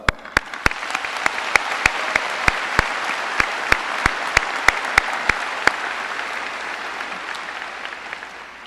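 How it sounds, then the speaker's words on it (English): A graduation crowd at Fort Zumwalt South High School claps steadily for the class of 2020, dense applause filling the space with a few sharp, louder claps standing out near the front before it slowly thins. "let's give a quick round of applause to the class of 2020"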